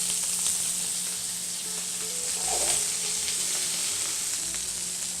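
Italian sausage fries in a skillet with a dense, even, hissing sizzle held close and steady for several seconds, with no voices over it.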